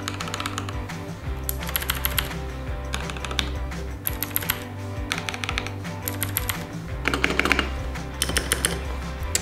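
Rapid typing on a Tofu 65 custom mechanical keyboard with a compact 65% layout: close, crisp key clacks in quick bursts separated by brief pauses, with no talking.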